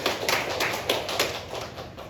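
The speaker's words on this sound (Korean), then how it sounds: "우리 박수하겠습니다." Church congregation at a Sunday worship service claps in celebration of an elder's recovery, a brisk run of hand claps with a few sharper individual claps standing out, moderately close and without talk.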